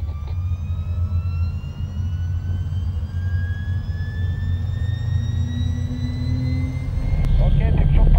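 A Bell Jet Ranger helicopter on a rainy day in Sion makes a loud, steady turbine whine with slowly rising pitch over a deep rumble, growing heavier near the end.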